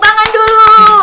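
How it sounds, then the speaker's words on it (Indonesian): A handful of quick hand claps, about five sharp hits in a second, ring out over a sustained tonal sound, close and loud. "Luar biasa, tepuk tangan dulu."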